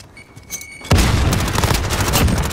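A grenade detonates in a shooter video game: a quiet lead-in with faint tones, then a sudden heavy boom that rolls into a long, loud rumbling tail laced with crackling gunfire.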